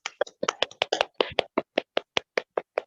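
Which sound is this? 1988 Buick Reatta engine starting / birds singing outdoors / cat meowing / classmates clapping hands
classmates clapping hands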